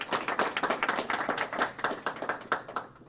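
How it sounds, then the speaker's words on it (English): A small audience at a press event claps in quick, distinct bursts, moderately loud and close, with a fairly even rhythm that tapers off at the end. "One more round of applause for Leah."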